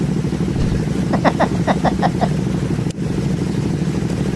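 A steady Triumph 400 motorcycle engine rumble with a brief burst of rapid exhaust pops partway through, heard nearby.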